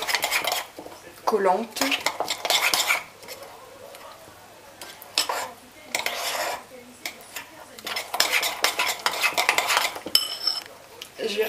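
A utensil clatters against a bowl in quick bursts while Dukan galette batter is beaten, fast rhythmic scraping and tapping with pauses between rounds, and a voice speaks briefly over it.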